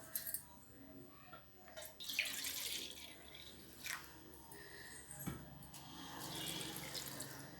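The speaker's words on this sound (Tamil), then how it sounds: "திரும்பவுமே நம்ம தண்ணி சேர்த்து மிக்ஸ் பண்ணி விட்டுக்கலாம்" Water is poured in and stirred into a sweet laddu batter, with faint splashing and stirring sounds in uneven bursts at low volume.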